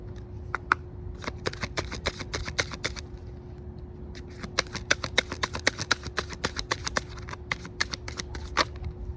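Tarot cards are shuffled close by in a steady run of crisp riffling slaps and flicks, sounding alone against a faint low hum.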